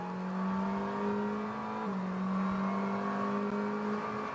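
From onboard a McLaren GT race car at Sebring, the engine holds a steady, sustained drone with a slight pitch dip midway, moderately loud and with no voices.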